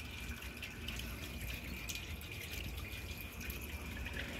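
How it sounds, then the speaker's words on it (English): Water splashes steadily into a 1984 Kohler Cayuga toilet bowl, a faint continuous trickling and dripping wash with no voices. "let's add some water to the bowl again and see if it can take dirt"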